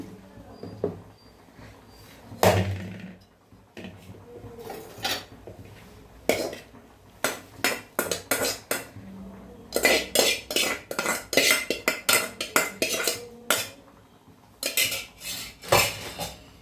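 A spoon clinks and scrapes against a metal pot while cooked vegetables are stirred into mashed dal, with irregular bursts of clattering that come in quick clusters and close-up stirring noise between them.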